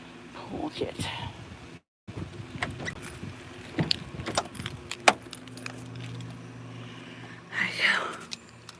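Keys jangle as they are pulled from a pocket, with several short metallic rattles scattered through the clip alongside soft rustling and hushed, breathy talk close to the microphone.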